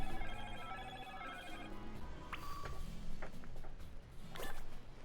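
A phone rings during a playthrough of Pokémon Violet, with a repeating electronic ringtone of steady pulsed beeps for the first couple of seconds, followed by scattered clicks and taps, at a moderate level without speech.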